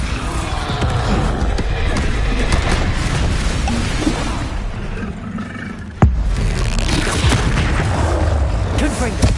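Spell blasts in Hogwarts Legacy on PS5 during combat, a dense roaring clatter of magical explosions with one sharp booming hit near the middle, loud and continuous throughout.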